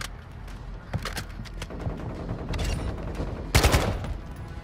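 Video game turrets and weapons fire in rapid bursts of sharp cracks and rattling automatic fire, close and loud, with a heavier flurry near the end.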